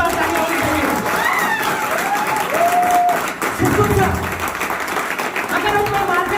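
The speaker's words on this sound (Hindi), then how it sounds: "इनके लिए जोरदार तालियां होनी चाहिए।" Audience applause greets an honoured guest at a talk: a steady, dense wash of clapping with a few high whistle-like tones rising above it, continuing throughout at a fairly loud level.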